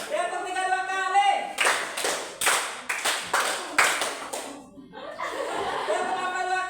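Several bursts of rhythmic hand clapping from a classroom group, sharp broadband claps in quick patterned sets between stretches of voices and light chuckling.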